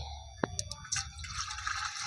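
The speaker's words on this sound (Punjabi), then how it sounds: "ਕੁੱਜੇ ਦੇ ਵਿੱਚ ਹੁਣ ਆਪਾਂ ਪਾਣੀ ਪਾ ਦਾਂਗੇ" Water poured from a glass into a clay pot set on a stove for cooking mustard greens, giving a faint, close trickle with a few small drips and splashes, quiet and brief with no talking.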